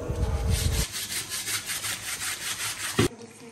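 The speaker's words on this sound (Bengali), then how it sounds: "তো আমার একটা পাতিল একটু পুড়ে গিয়েছিল, তো সেটা আমার বোন আবার ধুয়ে নিচ্ছে।" Someone scrubs a burnt cooking pot clean by hand, giving a rapid run of close, rhythmic rasping strokes. It starts with a louder, denser stretch and ends with a short knock.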